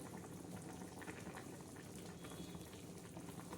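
Chicken curry simmers in a pot, a faint continuous bubbling and gentle boiling hiss heard close, with no voices.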